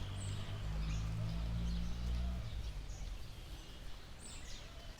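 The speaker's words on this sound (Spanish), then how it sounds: "El sonido de las aves." Birds singing in Parque Víctor Hugo, Cuba: a few faint, high chirps scattered over a low outdoor rumble that fades after the first couple of seconds, with no one talking.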